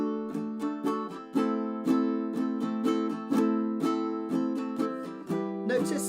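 Ukulele strummed through the intro, verse and chorus of a song in a live jam, with steady chord strokes ringing out in a bright, even rhythm, played alone with no voices.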